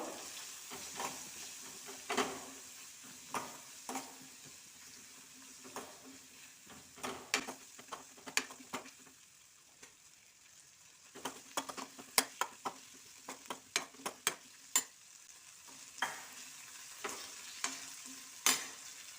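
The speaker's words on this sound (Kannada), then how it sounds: "ಸ್ವಲ್ಪ ಫ್ರೈ ಮಾಡ್ಕೋಬೇಕು" Spices frying in a hot pan with salt for a hing-pepper dish, a steady low sizzle broken by frequent scraping and clinking stirs of a spoon against the metal, with no talking.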